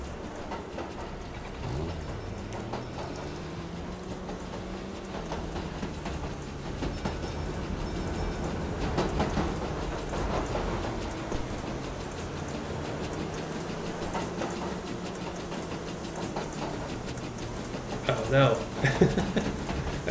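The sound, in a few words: steam train running, from a video game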